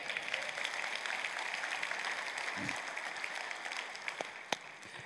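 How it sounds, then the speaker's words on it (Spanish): Congregation applauding in a Spanish-language church service, a steady, fairly distant wash of clapping with a few sharper claps standing out. "Dale un aplauso al Señor"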